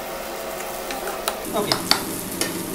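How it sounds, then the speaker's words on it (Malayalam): Potatoes with fried onions sizzling in a pan, a steady close frying hiss broken by several sharp stirring scrapes and clinks, with one brief spoken word. "ഇനി ഉരുളക്കിഴങ്ങ് കുറച്ച് ഫ്രൈ ആവുന്നതിന് നമ്മൾ വെയിറ്റ് ചെയ്യണം"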